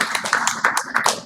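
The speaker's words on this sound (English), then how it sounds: "we should all give a big round of applause to Vivek" Clapping from an audience at a sports marketing conclave plenary session, honoring a speaker. Brief, close bursts of hand claps at an irregular rhythm, moderately loud and sparse rather than a full ovation.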